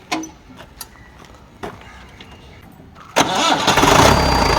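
The engine of a modified Mahindra jeep cranks with a few short bursts, catches, and then revs up into a loud, rough roar close by. Faint voices come through at the start.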